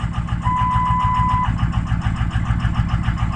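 A hay bale truck engine idles with misfiring cylinders, number 3 and number 6 both dead, giving a loud, steady, uneven lumpy rumble close by with no talking.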